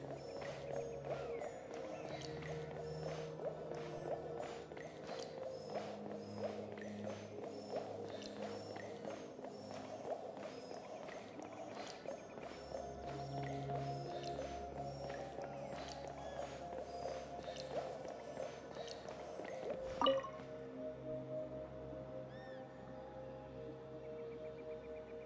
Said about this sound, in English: Oh, I can walk on the water here.